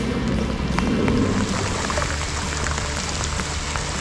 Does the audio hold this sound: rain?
yes